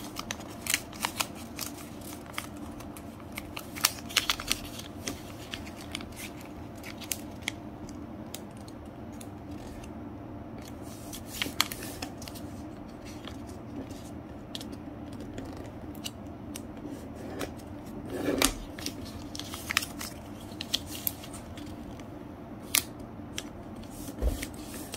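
Coloured origami paper being folded into a basket or box, with soft, close crinkles and creases spread irregularly through the whole stretch and a few sharper crisp snaps, all without speech.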